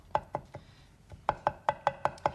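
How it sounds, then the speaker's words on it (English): A knife chops food on a board in sharp, close strokes: three cuts, a short pause, then a quick run of six evenly spaced chops. "And chopping releases their flavors."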